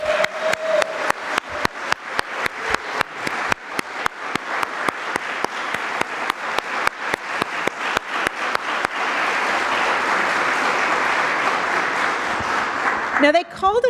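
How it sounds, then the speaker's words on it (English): A lecture and awards ceremony audience claps steadily for about nine seconds, the sharp rhythmic hand claps gradually merging into a dense, sustained wash of applause, close and loud. "let me have a quick round of applause for two legacy champions of media justice"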